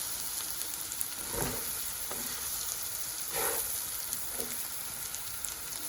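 Rice akhni, spiced with shahi zeera and cumin, fries in a pot with a constant soft sizzle, broken by a few gentle stirring scrapes spaced a second or two apart.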